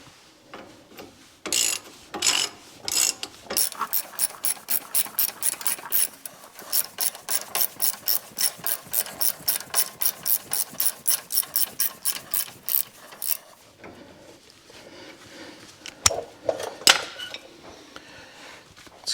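A ratchet clicks rapidly and steadily as it tightens the tie rod end nut on a 2005 Ford F-350, with short bursts before and after a long continuous run of close, crisp pawl clicks.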